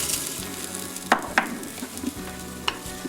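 Mushroom and almond milk sauce cooking in a pan gives a steady close sizzle and simmer, with a few sharp clicks of a utensil stirring or tapping against the pan.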